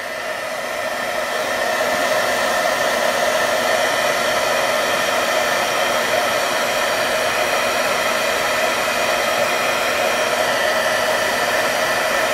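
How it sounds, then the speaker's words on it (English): A heat embossing tool blows hot air over a leaves window card in a loud, steady whoosh like a hair dryer that runs alone throughout. "now let's emboss this"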